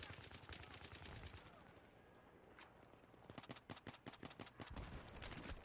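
Automatic gunfire rattles in Battlefield 3 in two sharp bursts of rapid shots. A short lull with a single shot separates them, and the second burst is louder and closer.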